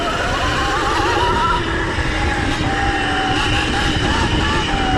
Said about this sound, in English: I'm going to try to be a little easier on full throttle because I am trying to be aware of not overheating this bike